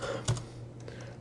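Several quick keystrokes tap on a computer keyboard while a name is entered in software, faint and close, with a couple of sharper clicks at the start and end.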